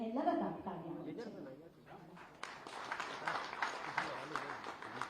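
A voice speaks for the first two seconds. Then audience applause rises and continues steadily through the rest, greeting the Uttar Pradesh chief minister at an investors meet in Lucknow.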